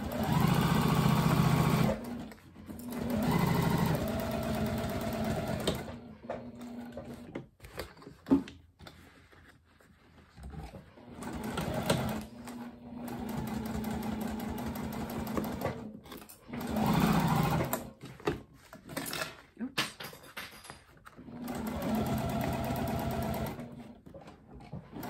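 A sewing machine stitching a tote bag seam with back stitches, running in long loud bursts of rapid whirring with short pauses between them, close up with no talk.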